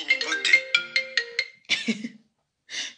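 A mobile phone plays a melodic ringtone for an incoming call, a quick run of bright tonal notes, then a pause and another burst, close and clear with a brief throat sound between.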